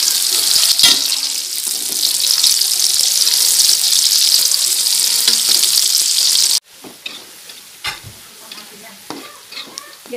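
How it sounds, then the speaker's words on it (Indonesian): Shallots sizzle and crackle in hot oil for soto Betawi topping, a dense, loud frying hiss for several seconds before cutting off abruptly into quieter scattered clinks and stirring sounds. "Kita goreng bawang merahnya untuk taburan di soto Betawi."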